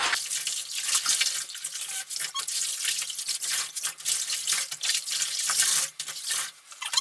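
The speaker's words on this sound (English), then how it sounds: "I would just kind of like swish the wet bag around a little bit" A wet cloth-diaper bag is swished around in sink water, giving a continuous close splashing and sloshing with irregular surges. No voices are heard.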